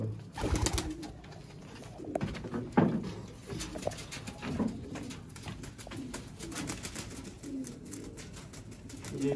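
A pair of Teddy pigeons coo in low, repeated murmurs close by, among light shuffles and a few sharper knocks.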